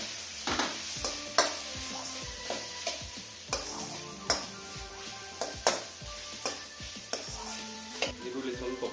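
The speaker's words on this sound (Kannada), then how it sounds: "ಕ್ಯಾಪ್ಸಿಕಮ್ ಇದು ಸ್ವಲ್ಪ ಹಾಫ್ ಫ್ರೈ ಆದರೆ ಸಾಕು, ಜಾಸ್ತಿ ಫ್ರೈ ಆಗೋದು ಬೇಡ" Onions and capsicum fry in a pan with a steady, soft sizzle, while a spoon or spatula stirs and scrapes in regular taps throughout.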